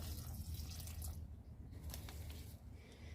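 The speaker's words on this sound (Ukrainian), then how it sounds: "Поливаємо" Water poured onto freshly planted cucumber and pepper seedlings in a greenhouse bed, a steady close splashing and trickling that eases off about halfway through, with small drips afterward.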